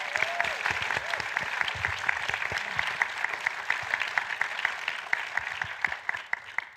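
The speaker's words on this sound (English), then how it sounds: "We get a big round of applause for our panelists" An audience at a filmmakers' mental health panel gives the panelists a round of applause, dense steady clapping from a moderate crowd filling the room, with a voice heard briefly at the start.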